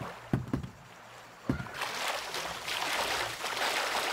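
A Zodiac inflatable boat in the game Sniper Ghost Warrior makes a few splashy knocks, then broad rushing water and engine wash that grows steadier and louder.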